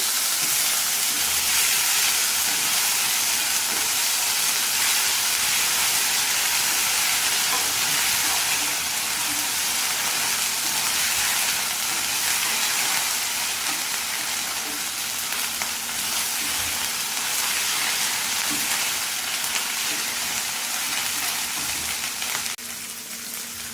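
A spoonful of ginger garlic paste fries in hot oil in a pan for a prawn and drumstick curry. It gives a loud, steady hiss and sizzle, close by and continuous, with no voices.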